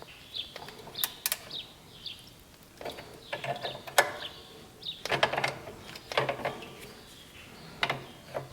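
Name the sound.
tightening the brake adjuster on an Allis Chalmers motor grader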